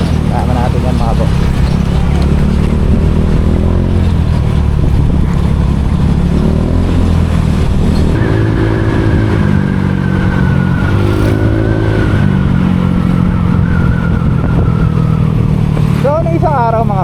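A motorcycle with a quiet exhaust cruises along a road with a steady, loud engine drone and wind noise, while a rider talks throughout.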